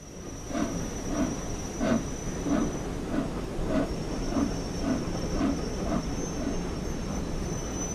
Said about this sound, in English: It's good to hear a steam locomotive clanking.